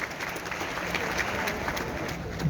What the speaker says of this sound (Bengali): সঞ্জয়জির জন্য একটা জোরে হাততালি ছেড়ে দিচ্ছি